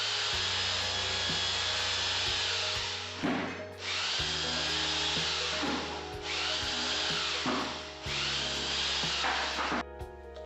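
Power tool grinding and chiselling plaster off a mud brick wall, a loud continuous whine running with short breaks and bursts of rubbing and scraping.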